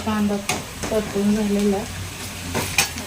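Food fries in a pan, giving a loud close sizzle, with a utensil stirring and knocking against the pan now and then.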